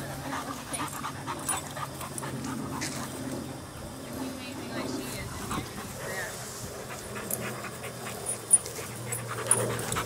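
A dog pants steadily at close range, quick rhythmic breaths with a faint whimper now and then, while a person talks over it and a few sharper knocks come near the end.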